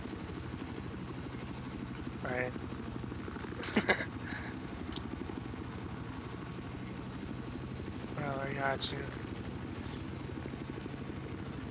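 Transport helicopter flying in the Battlefield 4 video game, a constant rotor thrum with a steady chopping pulse that lasts throughout, with scattered sharp game effects and someone talking over it.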